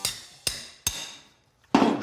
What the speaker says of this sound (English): Katie brought in the demo hammer, which I didn't know we had on the job site.